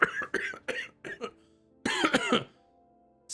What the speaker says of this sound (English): and she just starts coughing.